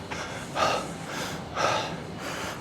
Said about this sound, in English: Sorry, I gotta catch my breath.